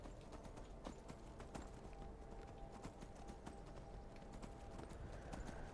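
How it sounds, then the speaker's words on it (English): Horse hooves clip-clop steadily at a riding pace in Skyrim's snowy, stormy wilds, with a faint whinny and rushing wind underneath; the hoof strikes stay close and continuous throughout. "I feel like I should be warmer if I'm riding a horse."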